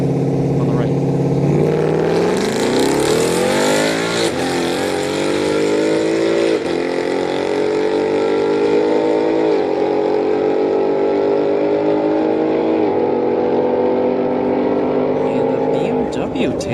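A Ford 5.0 and a BMW launch side by side in a street-night drag race at Orlando Speed World, engines screaming as they accelerate hard through the gears, a loud sustained roar gradually fading into the distance.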